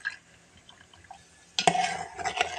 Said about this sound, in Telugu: కలుపుకోవాలి ఒకసారి అంతా.